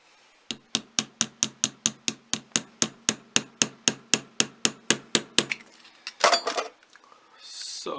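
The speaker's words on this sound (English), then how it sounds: "So now I have to rivet it all together" Rapid light hammer taps set 2mm rivets into a Viking age sun pendant, roughly twenty bright, ringing metallic strikes at a steady, quick pace, then a clatter and some handling noise.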